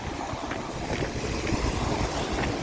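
Cold outdoor wind, around minus 12 degrees and near buildings, rushes and buffets the microphone as a steady, broad roar with low gusty rumbles throughout.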